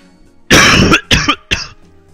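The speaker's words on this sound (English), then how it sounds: "The more I speak, the more I cough." A hoarse person with a sore throat coughs three times close to the mic. One long harsh burst is followed by two shorter ones, with no talking around them.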